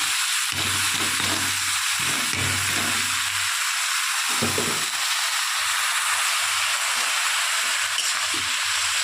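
Pumpkin with green chilli fries in a pan, a steady loud sizzle throughout, with stirring and scraping adding low clunks in the first half.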